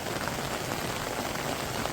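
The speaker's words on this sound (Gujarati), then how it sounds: "એટલે વરસાદ આવી ગયો છે ફરી" Continuous rain pattering on a surface, a dense, even hiss with no other sounds standing out.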